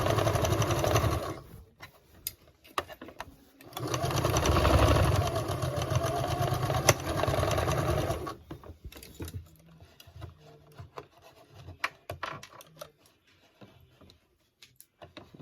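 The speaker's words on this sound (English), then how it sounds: "make sure when you're sewing that it doesn't gather too much with the threads, because you want it smooth" A sewing machine stitches a sleeve into a dress bodice in two loud, steady runs of motor hum and needle clatter, separated by a short pause, then falls quiet with scattered faint clicks and handling noises.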